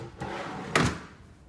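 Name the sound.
soft-close drawers pulled out and closing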